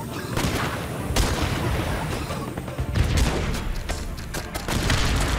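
Gunfire from snipers in the video game Guns Up!, a dense fusillade of shots and booms in rapid bursts that continues throughout, loud and busy, with no voices.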